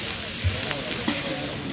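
Food fries and sizzles in a pan with steady, close crackling hiss and a couple of small clatters, with no talk over it.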